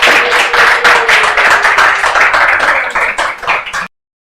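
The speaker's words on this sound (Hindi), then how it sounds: "एक बार जोरदार तालियां आप सब लोगों के लिए।" Clapping from a class audience at the close of a law lecture on the Indian Contract Act, a dense burst of hand claps that holds steady for nearly four seconds and then stops abruptly.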